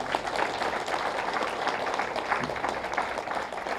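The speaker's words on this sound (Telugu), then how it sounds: "మనకు అవసరమైంది చెప్పిస్తున్న మాస్టర్స్ గట్టిగా చప్పట్లు కొడదాం." Audience at a youth meditation gathering claps loudly for the masters, a dense, continuous wave of applause filling the room without speech over it.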